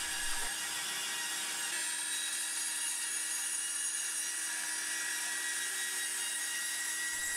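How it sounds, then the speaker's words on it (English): Table saw cutting a groove in a wooden piece for a menu holder, a steady, high-pitched whine held evenly for several seconds with no talking. "Then I could cut the channel on the table saw, moving the fence over until I widened the groove to the correct thickness."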